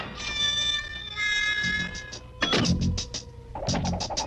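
A cartoon cat from Tom & Jerry meows in a drawn-out, wavering cry with bright harmonic tones, followed by several sharp squealing yowls near the end, loud and close with no talk.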